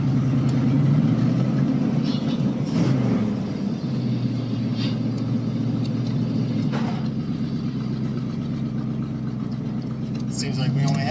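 Steady low rumble of a 1977 Pontiac Firebird engine idling a bit high, close and continuous, dipping slightly in tone partway through while people talk over it.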